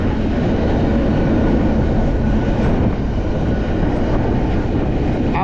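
A moving freight train heard up close from aboard: a steady, loud, dense rumble and rattle of wheels and cars on the rails that continues without a break.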